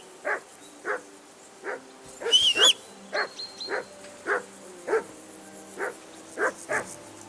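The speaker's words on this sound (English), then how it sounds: "that barking's driving me nuts" A dog in the video game Kingdom Come: Deliverance 2 barks again and again at a steady rhythm, single sharp barks roughly every half second, fairly close and loud, with a brief high whine partway through.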